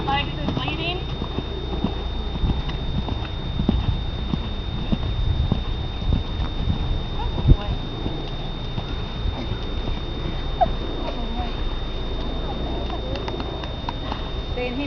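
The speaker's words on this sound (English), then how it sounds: "So he does flying lead changes." Soft hoofbeats of a horse cantering and doing flying lead changes on a farm, rhythmic and muffled under steady wind noise, with a person talking over them.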